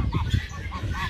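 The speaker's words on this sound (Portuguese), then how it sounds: "É um ganso, uma ganso." A goose honks several times in short nasal calls, close and fairly loud, with low background rumble underneath.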